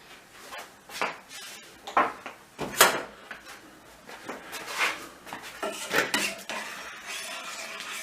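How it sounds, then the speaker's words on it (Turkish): Metal spoon scraping and clinking against a pot while bulgur pilaf is stirred on the stove, with irregular close knocks and scrapes over several seconds, no talking. "Şöyle karıştırıp ocağın en ufak yüzünde pişmeye bırakıyorum"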